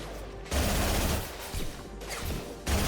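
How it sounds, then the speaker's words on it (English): Heavy gunfire in the video game Mass Effect 2, loud dense bursts of shots that start and stop in several waves across a few seconds, with no talk. "Taking heavy fire."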